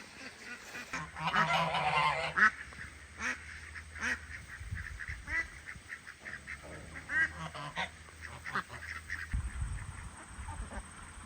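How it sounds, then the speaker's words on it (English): Ducks and geese on a farm pond give repeated honking quacks, loud near calls in bursts at the start and scattered calls later, with occasional splashes and rustling. "Got one duck in the pond. It's a hen."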